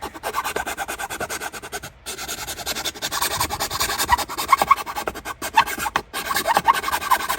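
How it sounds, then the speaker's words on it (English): A hand file rasps back and forth in repeated strokes, enlarging a mounting hole for a Qi charger in a truck interior, close and fairly loud with brief pauses between passes. "I needed to make my hole a little bigger, so that's what I'm doing now, is just making it a little bigger"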